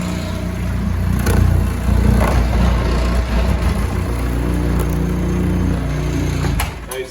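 A floor stripper machine removes stubborn flooring from a plywood subfloor, its motor droning loud and steady with rough scraping and a few louder bursts, close by, with no talk.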